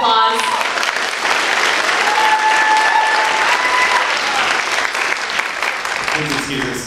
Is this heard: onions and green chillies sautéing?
no